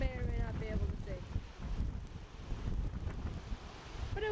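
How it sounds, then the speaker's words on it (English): Steady wind gusts across the Lake Michigan shore on a rainy day, a constant loud rush with rumbling low buffeting throughout, and a few faint high tones near the start. "it's windy today and it's raining"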